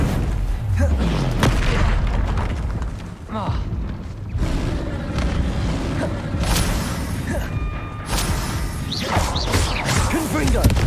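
Confringo explosive spell cast in Hogwarts Legacy, with booming blasts, whooshes and crashing impacts over a dense, loud battle din, several bursts spread across the stretch.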